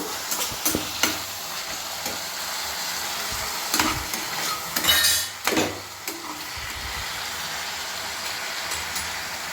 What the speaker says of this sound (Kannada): ಸಾಲ್ಟ್ ಆ್ಯಡ್ ಮಾಡಿಬಿಟ್ಟು ಎಣ್ಣೆಲ್ಲೇ ರೋಸ್ಟ್ ಆಗಬೇಕು.